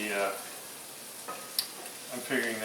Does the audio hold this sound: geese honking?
no